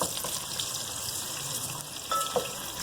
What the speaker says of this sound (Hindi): और अब मैं इसके अंदर प्याज ऐड कर रही हूँ। प्याज ऐड कर दी। अब प्याज को हमें ब्राउन करना है,